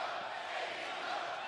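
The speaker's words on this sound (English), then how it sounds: "Listen, that crowd fired up." An AEW Collision wrestling crowd roars in a steady, loud, fired-up wash of cheering that holds throughout, with mixed voices blending into the din.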